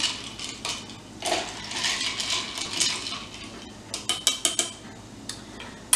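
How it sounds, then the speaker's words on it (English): A spoon stirs a Dracula's Kiss vodka cocktail in a glass. Soft swirling gives way to a run of sharp, close clinks of metal against glass, growing more frequent toward the end. "I'm going to do is stir it up a little."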